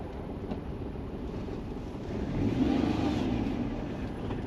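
A Daihatsu Move's small engine hums, then swells louder as it revs and accelerates in second gear to 70 km/h for a couple of seconds before easing back, with wind buffeting throughout.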